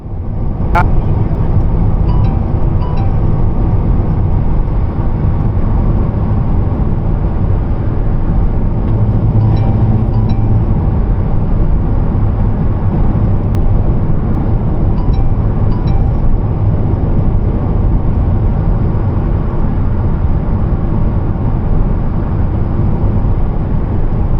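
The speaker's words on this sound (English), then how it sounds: "here is a sample where I'm going to show you where I'm driving down the road" A car travels down a road, captured by a Foxpark 1296P dual rear-view mirror dash camera, giving a steady, loud rumble of road and engine noise throughout with a few faint clicks.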